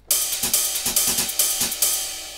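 Electronic drum beat with steady kick hits and bright, washing cymbal crashes, repeating quickly for a couple of seconds with a ringing tail.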